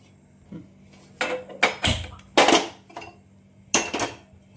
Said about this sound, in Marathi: आता आपण गॅसवर कढई ठेवून तेल गरम करूया